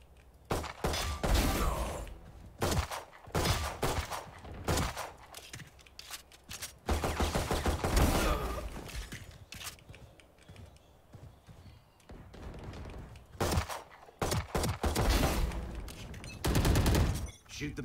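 Gunfire in a shooter video game: repeated bursts of rapid shots in clusters separated by short lulls, loud and close, with a voice talking at points between volleys.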